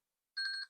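A phone alarm gives a short chirp reminding its owner to charge a battery, one brief bright electronic trill of a few pulses, clear and isolated in quiet.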